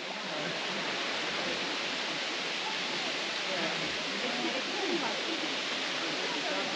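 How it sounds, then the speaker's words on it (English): Continuous rushing water flows steadily in Kakadu, a dense, even wash of sound close by with no pauses. "There's a bit of water flowing."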